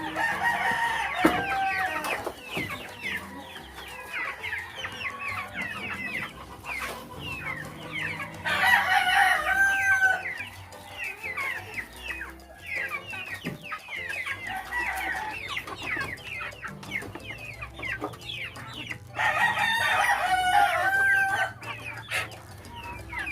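Hens and a rooster in a backyard coop cluck steadily throughout, with two loud crowing bursts rising above the flock's chatter, close and clear with no one talking.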